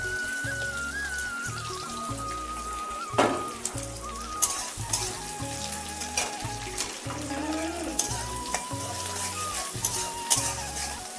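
Chopped onions fry in oil in a pan with a steady close sizzle and crackle throughout, broken by clattering stirring and scraping sounds at irregular intervals, with no talking.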